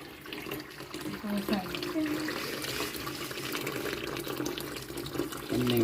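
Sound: water running while washing crabs

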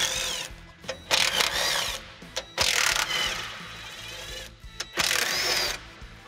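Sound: ratchet removing transfer case skid plate bolts

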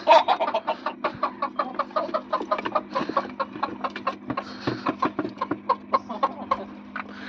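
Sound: chickens clucking

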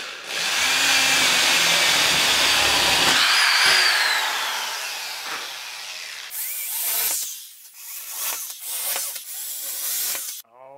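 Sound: new jigsaw cutting wood

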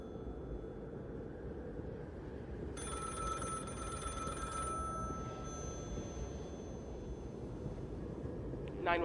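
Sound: telephone ringing in The Cabin Factory video game

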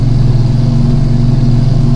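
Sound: loaded truck engine revving in a driving video game

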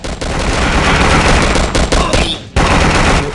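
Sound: gunfire from an enemy in the video game Vietnam 2: Special Assignment

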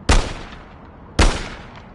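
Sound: gunshot fired at the leg in a video game

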